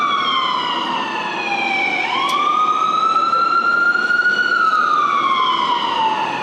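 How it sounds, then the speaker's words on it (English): A loud ambulance siren wails steadily, its pitch dipping and then rising as it sweeps past close by, fading slightly toward the end. "we'll wait for that ambulance to go by"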